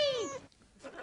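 A cat gives one short, clear meow that falls in pitch and fades, followed by faint room noise.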